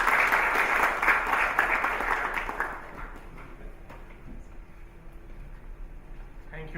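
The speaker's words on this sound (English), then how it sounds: "I have a round of applause for our speakers, please" An audience at a computer graphics expo claps for the speakers, a burst of applause that fades away after a few seconds, leaving a quiet room with faint speech.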